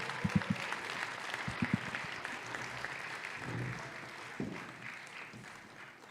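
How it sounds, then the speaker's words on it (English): Scattered applause from an audience at a debate championship awards ceremony, a few sharp claps early then a sustained, fairly quiet round of clapping. "Let's give them another round of applause."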